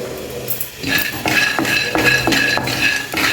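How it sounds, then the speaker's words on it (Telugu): A cup of peanuts roasting in a metal kadai: a loud, steady rattle and clatter of nuts being tossed and stirred against the pan in a regular rhythm. "ఒక కడాయి పెట్టేసుకుని ఒక కప్పు పల్లీలు వేసుకుని వేయించుకోవాలి"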